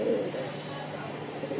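A pair of white Lakha pigeons cooing softly in a brief, low, close murmur, faint and continuous.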